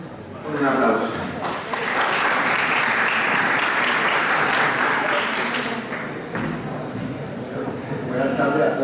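An audience breaks into sustained applause to welcome a doctor at a medical talk on agitation in the emergency room, loud clapping that swells quickly, holds for several seconds and then thins out.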